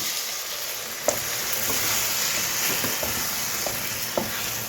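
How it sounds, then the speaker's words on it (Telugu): Steady sizzling of a simmering pan of curry with taro root and okra as tamarind extract is poured in, broadband bubbling hiss with a few faint clicks and soft splashes, close and alone without talk. "ఇందులో మనం చింతపండు పులుపు పులుసు వేసుకుందాము"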